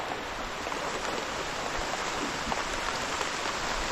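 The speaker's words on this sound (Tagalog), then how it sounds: "Maulang araw po. Talagang ulan na naman." Rain falls in an even, dense hiss that stays constant throughout, with no voices.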